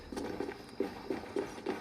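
Horses clip-clop in Assassin's Creed Valhalla during the Siege of Paris, a moderate series of hoof strikes in an uneven, walking rhythm over faint background ambience.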